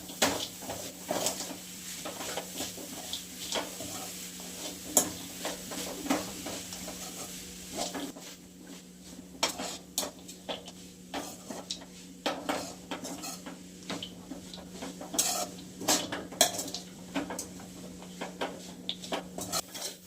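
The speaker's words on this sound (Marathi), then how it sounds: "बारीक गॅसवरच आपण हलवून घेऊयात।" A spoon stirs a coconut laddu mixture with dry fruits and dates in a pan over a low flame, making repeated close scraping and clinking against the metal in an uneven rhythm, with faint sizzling underneath.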